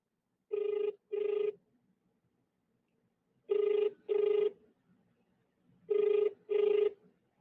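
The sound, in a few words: phone ringing unanswered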